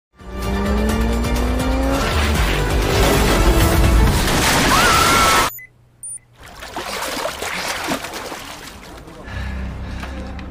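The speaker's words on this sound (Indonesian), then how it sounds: "YJ malah semakin terjebak di atas rooftop sehingga ia menerjang pembatas rooftop dengan motornya" In a drama scene, a motorcycle races across a rooftop with a loud, roaring engine and screeching skid, then crashes through the rooftop barrier. An abrupt cut to near silence follows before quieter rumbling returns.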